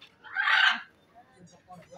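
A parrot at a holiday spot gives a loud, harsh squawking call lasting about half a second, followed by quieter chatter and faint background voices.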